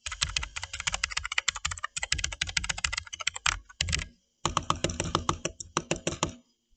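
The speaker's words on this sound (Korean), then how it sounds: "그러면 이제 키보드와 마우스를 눌러보겠습니다." Rapid bursts of keyboard keystrokes mixed with mouse button clicks, picked up close by a streaming microphone, typing in dense rhythmic runs with a brief pause midway, no voices.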